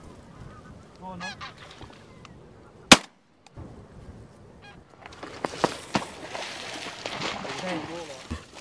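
Geese honk intermittently at a distance over decoys during a goose hunt in Orkney, followed by a sharp gunshot crack, then more scattered honking and splashing with rustling outdoor noise.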